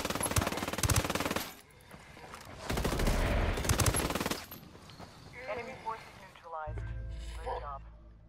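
Heavy bursts of automatic gunfire in the video game Ghost Recon Wildlands, two loud dense volleys followed by scattered shots and game sounds, with talk mixed in.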